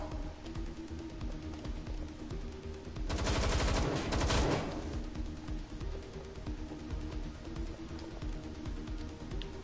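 Watch Dogs: Legion gunfire erupts as a dense, loud burst of rapid shots lasting over a second, standing out against a steady, humming in-game background that continues before and after.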